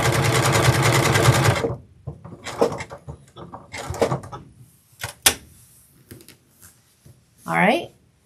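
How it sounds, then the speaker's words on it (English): Sewing machine stitching appliqué onto a scrappy crazy quilt block, a loud continuous close whir that stops, followed by brief handling clicks, rustles and a short machine burst. "So now I'm actually appliquing on top of my crazy quilt."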